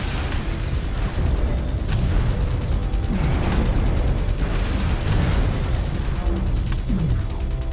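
Mech weapons fire and explosions rumble through a battle in MechWarrior Online, a dense continuous mix of booms, mechanical clanks and bursts at steady loudness with no clear speech.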